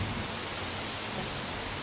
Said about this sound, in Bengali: তার সঙ্গে বৃষ্টি হচ্ছে